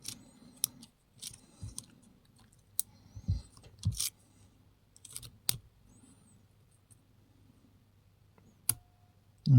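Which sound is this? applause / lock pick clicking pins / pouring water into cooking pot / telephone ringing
lock pick clicking pins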